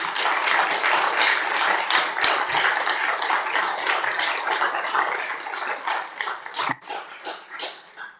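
An audience claps steadily after a children's performance, a dense crowd of hand claps that thins slightly toward the end.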